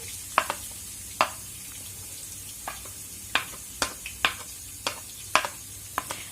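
Onions dropped into garlic frying in hot oil for arvi salan, giving a low steady sizzle broken by about a dozen sharp clinks and scrapes of a spoon stirring against the pan, close and moderately loud with no talk.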